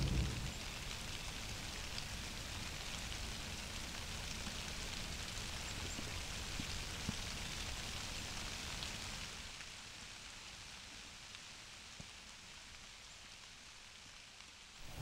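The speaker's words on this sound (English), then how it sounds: "I didn't want to sit in that rain" Steady rain falls on a farm on a morning deer hunt, making a continuous, even hiss of drops that thins slightly toward the end, with no voices.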